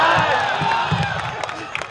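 Applause and cheering from a crowd at a Hindi poetry gathering (kavi sammelan) in Hajipur, a steady wash of clapping with scattered whoops running under talk for about two seconds.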